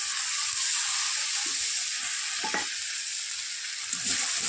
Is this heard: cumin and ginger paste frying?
yes